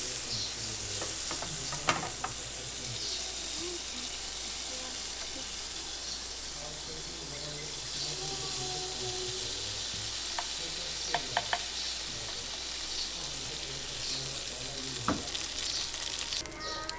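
Pancakes fry in a pan with a steady, moderate sizzle and hiss, punctuated by a few sharp spatula taps and clicks, with faint voices now and then in the background.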